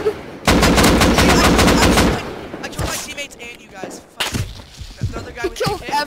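Rapid gunfire from the survival video game Rust, a loud dense burst of automatic shots for about two seconds, followed by scattered single shots and impacts under players talking over voice chat.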